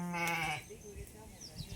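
A sheep lets out one loud, close, drawn-out bleat, and then only faint background noise follows.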